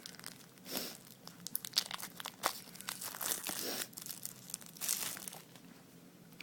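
A plastic wrapper on a Magic the Gathering Innistrad intro pack is torn and crinkled open, close and irregular, with sharp crackling bursts and rustling between them.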